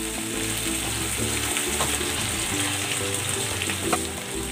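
Water pours steadily into a cooking pot holding pork ribs and corn, a continuous close splashing rush with no talking.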